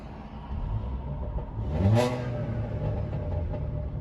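A 2017 Audi A4 engine with a downpipe revs up briefly with a low exhaust growl, swelling and fading over steady road rumble.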